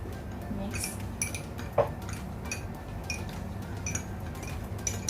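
A spoon clinks lightly against a cup while stirring tea with milk, a few soft scattered taps and one sharper clink over a low background hum, fairly quiet with no voices.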